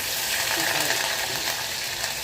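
Shallots and curry leaves sauté in a pan with a dense, steady frying hiss close by.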